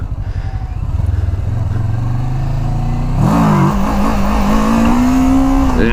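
Kawasaki Versys motorcycle engine revving hard for a wheelie, a loud, close buzzing drone that jumps sharply in pitch and holds high.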